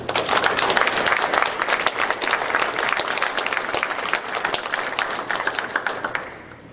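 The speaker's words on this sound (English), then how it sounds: "Guys, let's give them some applause." Audience applause at a Scottish Rite fall reunion in Danville, loud and dense clapping from a full room, holding steady before tapering off at the end.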